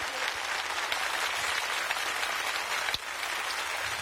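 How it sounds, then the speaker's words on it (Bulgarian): Sustained studio audience applause on a Bulgarian TV impersonation show, a dense, steady wash of clapping that runs loud throughout with one sharp accent near the end. "Аплодисменти за Мария."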